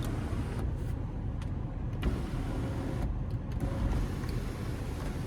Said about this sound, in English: we can slide or tilt the sunroof